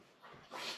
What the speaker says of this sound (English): I'm going to get rid of the dog